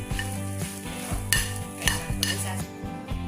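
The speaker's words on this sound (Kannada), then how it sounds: "ಇದಕ್ಕೆ ಸ್ವಲ್ಪ ಸಾಸಿವೆ ಹಾಕ್ತಾ ಇದ್ದೀನಿ" Mustard seeds sizzle in hot oil with cumin in a pan, giving a continuous crackle with a few sharp spoon scrapes and clinks against the metal pan.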